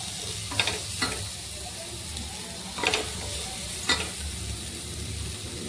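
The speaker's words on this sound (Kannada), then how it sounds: "ಟೊಮೆಟೊ ಇದು ಚೆನ್ನಾಗಿ ಫ್ರೈ ಆಗಬೇಕು" Tomato frying in a pan, a soft steady sizzle with a low hum underneath, broken by a few brief stirring scrapes spaced a second or two apart.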